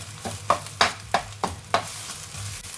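Egg frying in oil for chicken fried rice, stirred in rhythmic strokes that scrape the pan about five times over a steady close sizzle.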